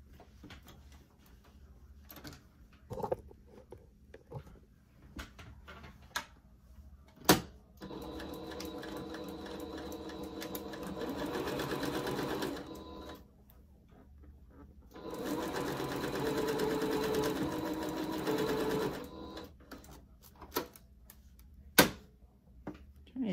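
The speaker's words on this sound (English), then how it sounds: "And then I just have to sew across the top, down the sides, and I go over the where the elastic is a few times" A home sewing machine stitching a fabric face mask with elastic, running in two steady whirring bursts of several seconds each, separated by pauses with clicks and handling of the fabric.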